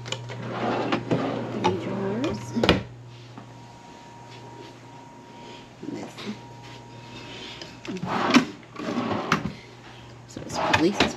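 Wooden drawers in a hotel room are slid open and shut, giving several sharp knocks and scraping rumbles, with a steady low hum underneath and quieter stretches between the bursts.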